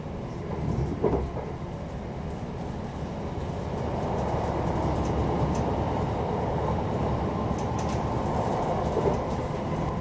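Class 720 electric train running onboard as it approaches Stratford station in London, a steady close rumble and rolling hum that builds slightly, with faint rattles and no talk.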